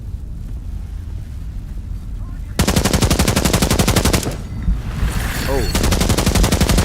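VSS rifle fire in Into the Radius 2 comes in loud, rapid automatic bursts of closely spaced shots, after a quieter lead-in, with a brief pause between the two long bursts and a short spoken exclamation.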